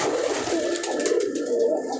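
Several Raj Golla pigeons coo softly and continuously in a loft, their low murmuring calls overlapping at close range with no talking over them.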